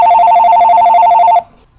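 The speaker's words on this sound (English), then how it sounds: "Excuse me, I have an important phone call." A telephone rings loudly and close for an incoming call, a rapid warbling electronic trill held for about a second and a half before it cuts off into quiet.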